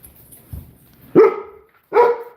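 Dogs barking indoors, three loud, close barks spaced across a couple of seconds, the first soft, the last two sharp and strong, with no talk.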